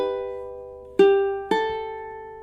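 Ukulele playing measure 14 of a Christmas song: a sustained chord ringing alone, then two plucked strums about half a second apart, each decaying slowly and clearly in a quiet room.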